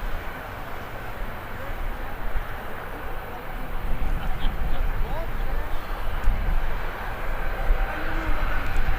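Ryanair airliner departing Birmingham Airport: a broad jet engine rumble starts moderate and swells louder partway through, holding strong to the end as the aircraft climbs away.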